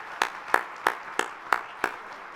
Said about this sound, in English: would you join me first of all in giving a big round of applause to our first set of panelists today